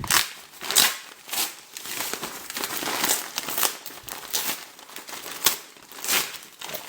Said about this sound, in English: If I can get this paper envelope out of here.